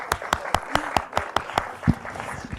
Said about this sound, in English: let's clap our hands again for Stefanie